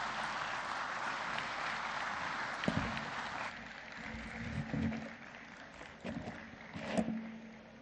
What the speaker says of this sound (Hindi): बस जोरदार तालियां माननीय राष्ट्रपति महोदया के लिए